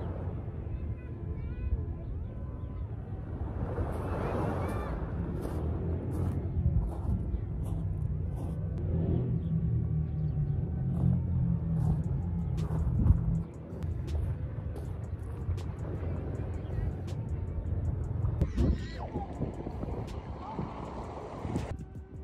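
Steady wind blowing at the seaside where people are fishing, a continuous low rumbling buffet against the microphone that swells and eases throughout, with faint voices in the background.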